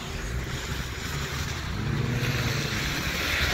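A diesel vehicle rolls past on a snowy Montreal street in Westmount, its broad engine rumble and tire hiss swelling steadily against wind noise, with no talking.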